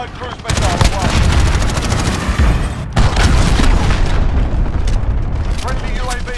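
Heavy gunfire and booming blasts from a cruise missile strike in the shooter game Modern Warfare during a 10v10 Headquarters match. Loud, dense explosions and machine-gun bursts run almost nonstop, with a few sharp cracks, while voices call out over the noise.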